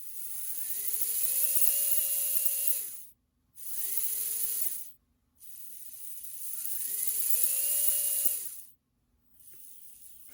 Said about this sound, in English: that's a really fast motor